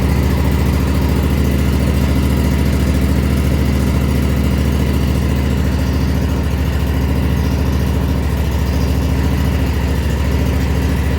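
A Husqvarna Z248F zero turn mower engine idling, a loud, steady low rumble that holds evenly throughout with no talk.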